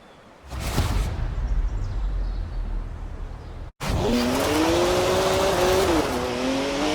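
A BMW 1M in Forza Horizon 4 roars past with loud engine and tire noise, then after a brief cut its engine revs hard and climbs in pitch, close and alone with no talk.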